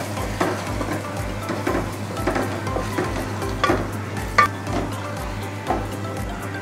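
Leafy greens curry (kalagura) seasoned with salt and chili being stirred in a pan, with a steady run of close spoon scrapes and soft clatter over a low sizzle.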